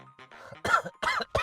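A man coughs three times in quick, harsh bursts, close and fairly loud, after some faint low sounds.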